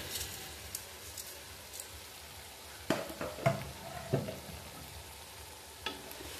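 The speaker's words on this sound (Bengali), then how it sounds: "এবার চাল, ডাল আর সবজি আমি একটু ভালো করে কষিয়ে নিব।" Rice, lentils and vegetables for winter vegetable khichuri are sautéed in a pot with a soft, quiet sizzle. Occasional stirring knocks and scrapes stand out, a cluster of them in the middle.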